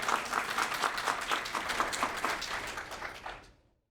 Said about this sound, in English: so let's have another round of applause